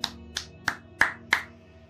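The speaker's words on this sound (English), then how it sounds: "And applause is all that I can really grab" Five slow, evenly spaced hand claps ring out, each a sharp crisp snap over a faint steady hum, without any voices.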